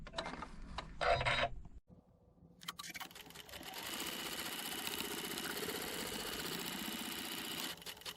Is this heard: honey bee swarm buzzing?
no